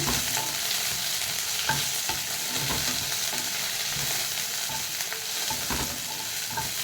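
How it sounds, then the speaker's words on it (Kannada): Mint leaves frying in a pan while being stirred, making a steady, dense sizzle with soft scraping and clicking from the spoon throughout, close by and with no one speaking. "ಇದಕ್ಕೆ ಸ್ವಲ್ಪ ಪುದೀನ ಸೊಪ್ಪು ಹಾಕ್ಕೊಂಡು ಹುರ್ಕೊಳ್ತಿದ್ದೇನೆ"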